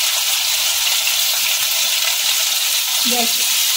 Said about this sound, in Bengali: গ্যাসের আঁচটাকে মিডিয়ামে রেখে আলুটাকে আমি লাল লাল করে ভেজে নেব